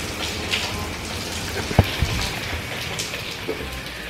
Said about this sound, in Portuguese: aqui tá chovendo muito, mas muito mesmo, cara